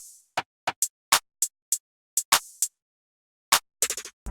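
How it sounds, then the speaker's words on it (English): Programmed hip-hop percussion loop of hi-hat, rim shots, a descending snare, claps and an open hi-hat, sharp dry hits in a syncopated pattern with a gap and a closing rapid roll, heard alone. "So together the percussion sounds like this."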